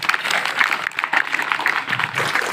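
An audience at a primary school Republic Day program claps, a short burst of brisk, even applause from a crowd.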